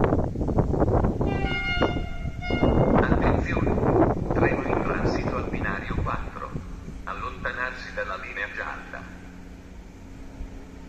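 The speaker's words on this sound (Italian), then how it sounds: "Attenzione, treno in transito al binario 3, allontanarsi dalla linea gialla." A train passes through a station on platform 3 in Italy, a steady broadband roar with metallic tonal squeals that swells and then eases over about eleven seconds, while an amplified public-address voice speaks over it.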